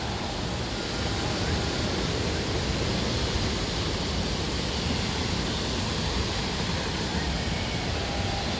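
Water rushes steadily through the pools of the İmamoğlu trout farm, a dense, constant broadband roar close by with no breaks.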